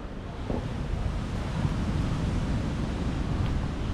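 Sea waves wash along a beach in Penang in a constant broad rush of surf mixed with wind buffeting the microphone, with no talking.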